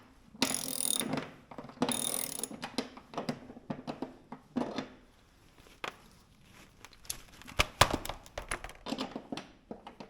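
A ratchet loosens a bolt on a 2022 Ski-Doo Skandic snowmobile during winter prep, two short bursts of close ratcheting clicks followed by scattered taps and metallic handling noises.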